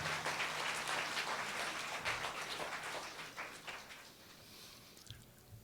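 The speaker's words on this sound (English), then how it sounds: "Give yourselves applause." Faint applause from an audience at a school conference meeting, steady crowd clapping that runs on for several seconds and gradually thins out at a low level.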